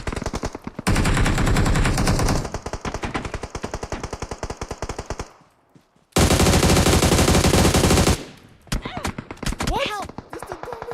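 Video game gunfire on a live stream: long bursts of rapid automatic shots, loud and close, broken by a brief pause, then another dense burst and scattered single shots.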